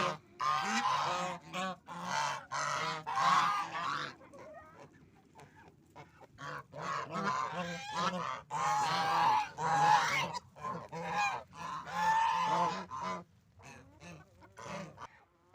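A flock of ducks quacks loudly and continuously in rapid, overlapping bursts close by, with brief pauses between calls.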